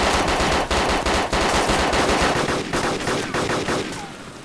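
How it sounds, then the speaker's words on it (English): Rapid bursts of automatic gunfire in the zombie-survival game DayZ, loud and sustained in close repeated volleys that thin out and fade slightly toward the end, with no talk over them. "Somebody shooting zombies then."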